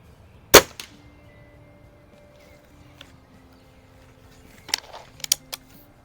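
A Crosman Summit .22 caliber break barrel air rifle fired at a range: one sharp, close crack, then later a cluster of clicks and knocks from cocking and handling, with no talk.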